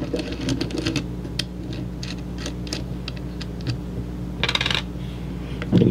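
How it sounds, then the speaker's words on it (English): Small metal nut being spun off a Baofeng UV-5R handheld radio with a screwdriver, giving light metallic clicks and rattles close up, with a brighter scraping burst near the end. "I like using the screwdriver to spin it off."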